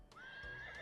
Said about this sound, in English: it's a horse. Planter, it's a horse.